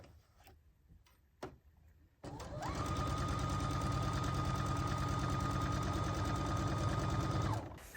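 A sewing machine stitching the seams of an Elodie wrap dress, starting after a few faint clicks and then running fast and loud in a steady, continuous whir for several seconds before stopping.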